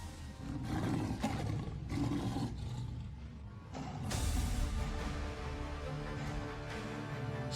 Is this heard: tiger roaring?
yes